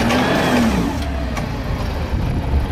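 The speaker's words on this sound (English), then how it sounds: "this is a Toyota Forklift model 425 FGCU25" A Toyota 5FGCU25 forklift with 5,000-pound capacity and a two-stage mast revs its engine up close, giving a brief rising whine over a steady mid-pitched engine hum.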